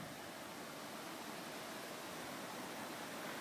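Steady, full broadband wind rush blowing across a vegetable garden of young watermelon and squash plants, continuous and fairly loud with no breaks, sounding like roaring air buffeting close by.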